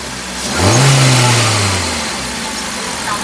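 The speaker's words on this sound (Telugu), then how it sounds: "ఇంజన్ యొక్క నాయిస్ చాలా అంటే చాలా సైలెంట్గా అయితే ఉందండి కార్ ఇంజన్ నాయిస్" A 2015 Hyundai i20 Magna car engine revs up once with a rising, smooth hum, then settles back to a steady, quiet idle.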